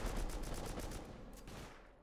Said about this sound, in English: I can still hear turrets.